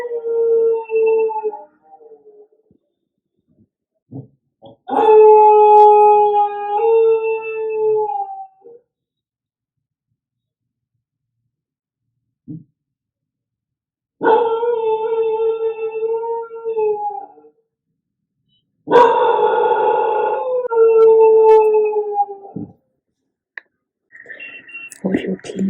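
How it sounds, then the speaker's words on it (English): A puppy left alone at home howls and yips in drawn-out, wavering cries, coming in separate bursts with silent gaps between them, close and clear, with no talking over it. "He started howling after half an hour. Can you hear him? He's barking. He's howling."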